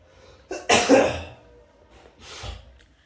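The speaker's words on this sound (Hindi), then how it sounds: "पता नहीं कैसी खांसी हो रही है, रात भर खांसना" A woman coughing hard twice in quick succession, close and loud, followed after a pause by a weaker cough, with no talking.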